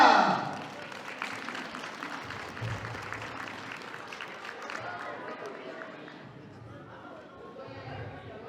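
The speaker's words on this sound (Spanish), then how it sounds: "Los aplausos para la novia." Wedding guests applauding the bride at a reception, a busy spread of clapping and crowd noise under voices that tapers off steadily.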